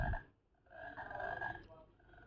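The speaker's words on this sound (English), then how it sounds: "The toad? That's the sound of the toad." A toad croak plays from the speaker of a children's nocturnal animals sound book, a faint, buzzy, drawn-out croaking call in a short burst, quiet and close, with no talking over it.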